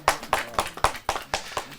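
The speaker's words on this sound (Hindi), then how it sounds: "जोरदार ताली के साथ।" Rhythmic applause from the crowd at a Hindi kavi sammelan, even beats of clapping about four per second, moderately loud and free of speech.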